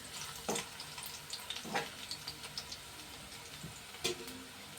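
Food frying in a pan on the stove, a steady low sizzle broken by a few sharper crackles and pops, close and fairly quiet, with no one talking.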